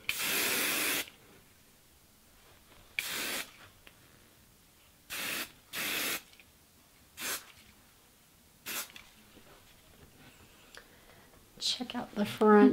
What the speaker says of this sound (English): We're going to add a little hairspray.